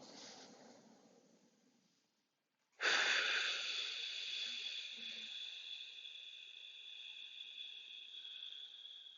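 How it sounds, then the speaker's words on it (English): Yoga breathing: a soft, steady inhale through the nose, a brief pause, then a strong, close breathy exhale through the mouth, like blowing gently through a straw, that holds steady and slowly fades. "take a strong inhale through your nose, exhaling out through your mouth as though you're gently blowing out through a straw"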